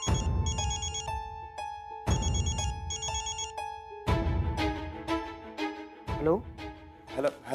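A telephone rings repeatedly in short electronic trilling bursts, with a pause between rings, and music plays underneath as a call goes out in a Marathi TV serial.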